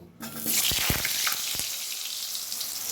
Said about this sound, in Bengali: সেই জন্য আগে আমি আলুটা ভেজে নেব